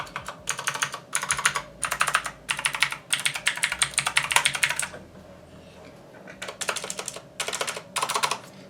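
Rapid typing on a cheap $17 mechanical keyboard from Amazon, dense clacky bursts of keystrokes in quick runs with a short pause in the middle, close and loud with no talking.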